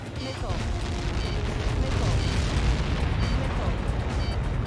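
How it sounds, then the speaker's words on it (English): Huge in-game explosion from Helios projectiles striking the blast area in Ace Combat 7, a sustained loud rumbling roar filling the whole stretch with dense low boom and debris noise. "How many got caught in that explosion?"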